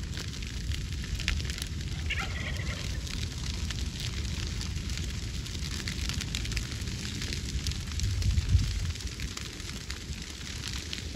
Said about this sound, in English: Now that's a fire.